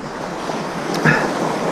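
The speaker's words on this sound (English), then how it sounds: "nice juicy gust there" A gust of wind hits a sailboat underway, a broad steady roar of wind over the microphone with water rushing along the hull, building slightly toward the end.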